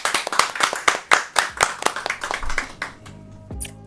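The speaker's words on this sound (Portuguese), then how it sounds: "Quem gostou, bate palmas." Hands clap in a quick, steady run of about a dozen sharp claps, close and clear, then slow and fade out near the end.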